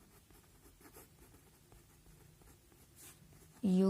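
A pen scratching out a written solution to a class 10 maths problem, with faint, steady close strokes, and a voice coming in at the very end.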